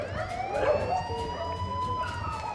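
Police patrol car siren wailing loudly and steadily up close, its rising and falling tone held throughout with traffic rumble underneath and no talk.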